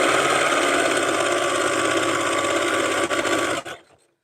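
Sewing machine running steadily while stitching a fabric rag rug, a dense continuous whir with rapid needle chatter that holds for several seconds, then stops abruptly and winds down to silence.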